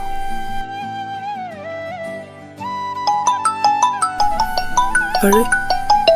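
A melodic electronic tone plays, then a phone ringtone repeats in quick, even pulses, loud and close, with a brief spoken exclamation.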